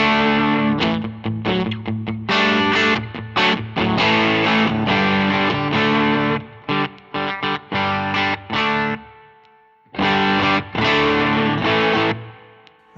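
Electric guitar driven through a Way Huge Red Llama overdrive set for a rhythm push tone, crunchy chords strummed in short choppy bursts with brief gaps and a pause before a final ringing chord, loud and close with no voices.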